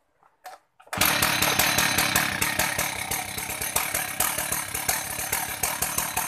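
After a couple of short pull-cord tugs, a chainsaw without a decompression valve fires and runs loudly and steadily, with a fast, rattling two-stroke engine pulse close by.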